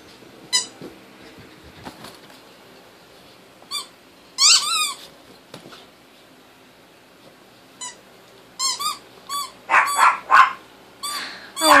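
A dog barks and yelps repeatedly in irregular bursts, close and loud, with squeaky high-pitched yips clustered toward the end over quiet room background.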